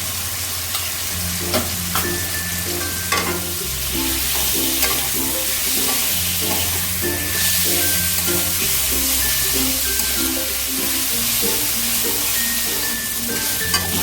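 Chicken pieces seasoned with a little ground black pepper stir-fry in a pan for fried rice, a steady loud sizzle with repeated scraping and clinking of the spatula as the meat is turned, no voices.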